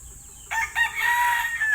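A rooster crows once, close and loud, in a backyard flock of chickens. The crow rises sharply and holds a long, strained call.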